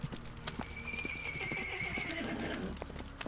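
A video game horse in a dark woods setting neighs in a long, loud whinny while hooves clomp and stomp around it, joined by a few cooing bird calls in the background.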